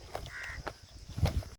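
Several crows caw in short separate bursts at a moderate distance near ponds, with quiet background noise between calls.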